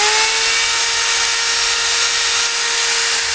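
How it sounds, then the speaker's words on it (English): A drill fitted with a wire wheel cleans a pulley on a John Deere 720 tractor, producing a loud, steady high whine with a bright abrasive hiss, close up and unbroken, without talk. "what I've done now is put a wire wheel in my drill"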